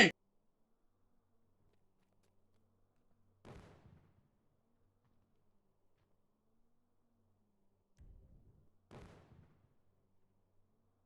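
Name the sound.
explosion blast in a video game (GTA, Franklin)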